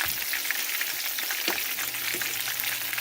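Bluegill fish frying in hot grease give a steady, dense sizzle throughout, with a couple of soft scraping knocks as the pieces are flipped in the pan.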